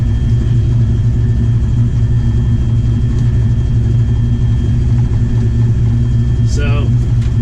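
Drag racing car idling with a deep, steady engine rumble, loud and close throughout, with a brief high squeak near the end and a voice talking over the engine.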